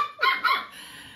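A pretty, patterned puppy barks twice in quick succession, sharp and close, the yaps spaced a few tenths of a second apart, with a fainter tail of room noise after.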